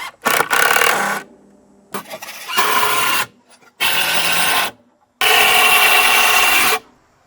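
A power driver sinks exterior-grade star drive screws into wood for a raised bed frame, four loud whirring bursts of about one to one and a half seconds each, separated by short pauses.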